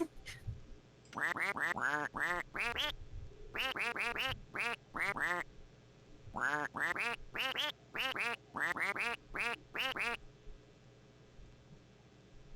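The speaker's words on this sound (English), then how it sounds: "It's a duck." A duck quacking in a rapid series of nasal calls, grouped in several bursts with short pauses between them, loud and close, alone against a quiet background.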